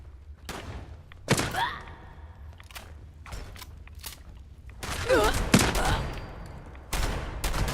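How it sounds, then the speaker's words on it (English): Gunfire in the video game Fallout 76: bursts of shots and impacts scattered across the clip, the loudest clusters near the end, with some faint game sounds between them. "Why are you shooting at me?"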